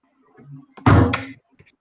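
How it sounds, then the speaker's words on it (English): A single heavy dull thump of a head hitting a table sounds close by, with faint murmuring voices just before and after. "That was the sound of Bishop's head on the table."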